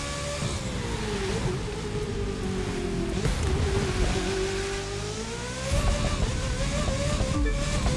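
A race car in The Crew 2 is driven hard in a pro racing event, its engine droning and rising in pitch under load with tyre noise and a steady rushing roar throughout.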